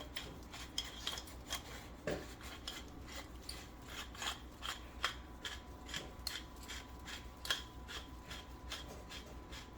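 Dry, repeated grinding of peppercorns into a dish of seasoned chicken, a steady train of small crunching rasps at close range, with no voices.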